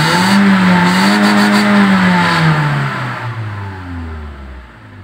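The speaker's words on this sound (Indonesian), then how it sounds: "Ini kita tes responsif tarikan gasnya ya guys." A car engine revs hard after a Tornado Air Power intake install, a loud close throttle run that holds high, then eases and falls away to a lower idle-like drone.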